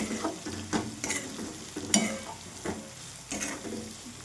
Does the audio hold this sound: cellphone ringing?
no